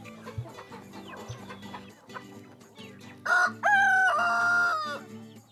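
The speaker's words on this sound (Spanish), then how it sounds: "Los habitantes, las gallinas que viven aquí," Chickens at a blue-egg farm cluck softly at close range, then a rooster lets out a loud, sustained crow that dominates the final seconds.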